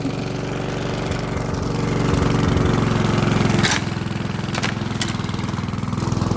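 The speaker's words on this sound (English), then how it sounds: "Okay, time to mow the lawn." A lawn mower engine runs steadily and close by with a low, even drone that rises slightly midway, and a few brief sharp clicks or knocks come through over the hum.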